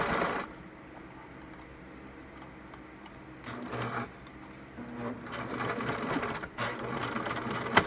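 A sewing machine stitches fabric with a steady, fast mechanical whirring that rises and falls in speed as it runs, close up and moderately quiet, with no talking.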